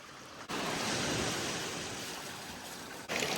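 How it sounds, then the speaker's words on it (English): Ocean waves wash onto a calm beach with no wind, a broad steady hiss of surf that gradually fades, cut by sharp breaks at the start and end. "The waves aren't as loud as they were last time."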